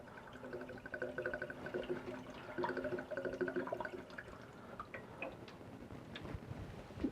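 Water fills the reservoir of an AeroGarden Harvest indoor garden, a steady pouring and trickling that rises in pitch as the tank fills, close and moderately loud, with no one talking.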